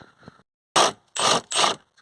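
A ratchet wrench loosening a 5mm Allen bolt on the air intake of a VW Golf 2.0 TDI, three short bursts of dense ratcheting clicks up close, separated by brief silences.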